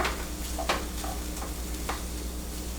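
Peppers and mushrooms sizzle quietly in a pan over low heat, a soft steady crackle with a few light stirring clicks and a low background hum.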